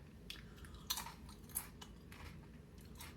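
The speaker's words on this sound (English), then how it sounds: "Can you hear that crunch?" A homemade chip is crunched in a few quiet, close bites followed by softer chewing, faint and alone without talk.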